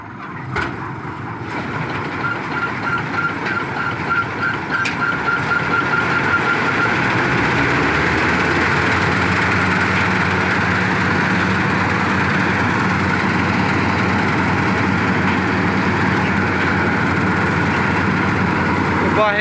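A heavy harvesting machine engine running loudly and steadily during a wheat harvest, a deep continuous rumble that builds in the first seconds, with voices faintly underneath.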